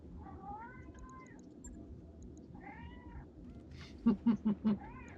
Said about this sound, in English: my cat has decided he needs to be part of the conversation